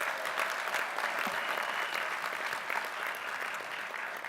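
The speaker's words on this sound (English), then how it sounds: "Let's give him a big round of applause." A labor convention audience applauds in a large hall, a dense steady wash of clapping from many hands that stays fairly even and eases slightly toward the end.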